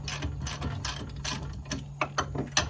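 A ratchet clicks in quick uneven bursts while loosening nuts on a Chevy S-10 spindle, close-up metallic ticking over a low steady hum.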